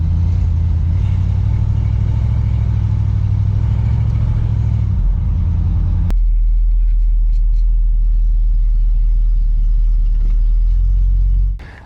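A Ford Galaxie's engine runs loud and close with a deep, steady low rumble while the car drives after an engine repair and steering rebuild. The tone shifts around six seconds, settling into a heavier, smoother drone, and no talking is heard.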